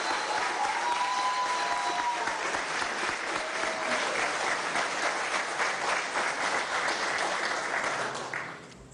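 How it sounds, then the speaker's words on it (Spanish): An audience at a Venezuelan government ceremony honoring athlete Yulimar Rojas applauds her Venezuelan coach, with sustained, dense clapping from a crowd that fades near the end. "Un aplauso a este entrenador venezolano."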